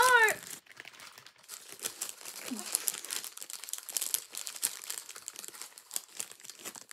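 Packaging crumpled and torn open up close, a busy run of crinkling and ripping with a brief tonal squeak near the start and faint voice sounds mixed in.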